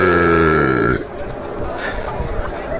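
A long, loud, tonal burp with a strong buzzing pitch rings out alone for about a second, then gives way to crowd chatter and room noise.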